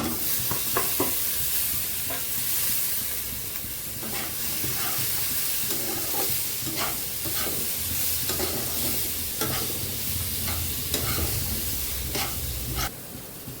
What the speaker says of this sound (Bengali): এখন আমি এই সবজিটা দিয়ে দিচ্ছি। সবজিটা দিয়ে একটু ভেজে নেব।